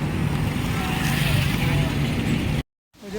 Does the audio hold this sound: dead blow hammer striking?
no